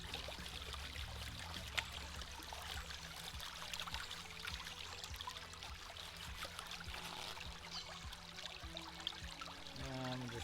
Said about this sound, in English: Wash the material off a little bit. Make sure we're getting some clean water in there.